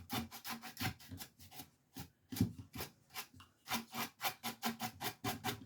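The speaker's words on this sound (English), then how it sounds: "I do this first before I start buffing, and I just brush it around." A brush spreads wax over an upcycled wooden desk drawer before buffing. Quick, close, rhythmic rasping strokes come in bursts, with a few short pauses between them.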